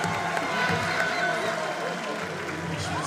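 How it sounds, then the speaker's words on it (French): An arena audience applauds a fighter at a match, with steady dense clapping and crowd noise holding throughout, while a commentator talks over it. "Il est follement applaudi aussi parce qu'il vient d'assister à un combat magnifique"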